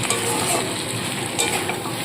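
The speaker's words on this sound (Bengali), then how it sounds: "মাছের মাথা দিয়ে মশলাটা কিন্তু খুব ভালো করে কষিয়ে নিয়েছি" Fish head and spices stir-frying in a pan for a lentil dish, a steady close sizzle with faint scraping of the utensil, no voices.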